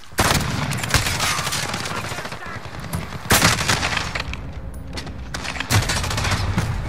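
Sustained automatic gunfire aimed at enemies in Call of Duty Modern Warfare, a dense, loud and continuous burst with heavier impacts near the middle, while a player talks over it.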